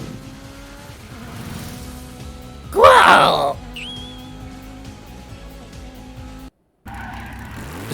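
The Stratos car in a visual novel game skids with a sharp tire squeal and engine roar, a loud burst lasting under a second amid quieter background music, with a brief exclamation from a voice.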